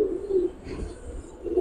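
A club pigeon of an old breed gives soft, low coos, a couple of short throaty calls close by in a quiet setting.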